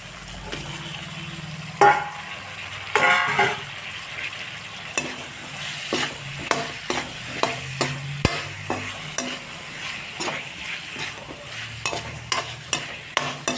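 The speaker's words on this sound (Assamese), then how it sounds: "আলুখিনি মই পুনৰ 5 মিনিট আকৌ ভাজি ল'ম।" Potatoes frying in a pan for chicken curry, a soft continuous sizzle punctuated by regular sharp scrapes and knocks of a spoon stirring against the metal, close up with no talk.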